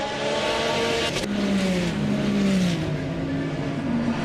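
A Porsche GT3 race car's engine in a racing game at Misano World Circuit, a loud, steady drone rising and falling in pitch as it shifts through gears, heard mostly on its own.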